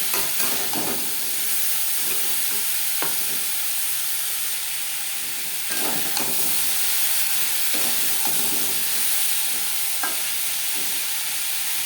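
Vegetable stalks with salt and turmeric frying in a pan for a coconut dish made without garlic or onion, a continuous close sizzle punctuated by periodic scraping stirs.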